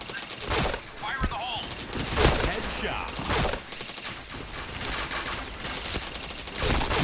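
Rapid video game gunfire sounds as dense bursts and sharp reports over a loud mix of game effects, with people talking and exclaiming throughout.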